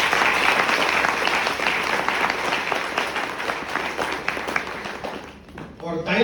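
Audience at a company diamond-achievement celebration in Vapi gives loud, dense applause for a recognised leader, steady throughout before fading into a voice at the very end.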